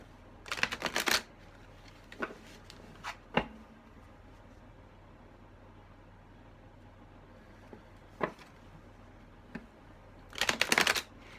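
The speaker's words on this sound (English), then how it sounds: "you have to shuffle again to get that energy working through the cards" A deck of tarot cards is shuffled in quick riffling bursts near the start and again at the end, with a few soft taps and handling clicks in between, in a quiet room without talk.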